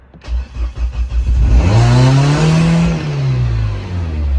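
Big-turbo Mini engine on its first start, cranking in a few rhythmic pulses before catching and revving loudly up and back down, close by and with no talk.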